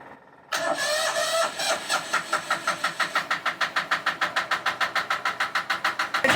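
A sailboat's engine cranks briefly, catches and settles into a steady, loud chugging idle with an even pulsing rhythm, close by and with no talking.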